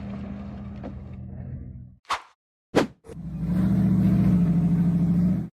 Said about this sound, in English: A modified pickup truck was speeding across the desert